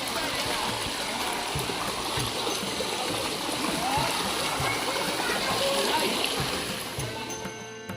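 Shelpi Waterfall in Konkan, falling water and a flowing stream roaring steadily and loudly throughout, a dense continuous rush with splashing.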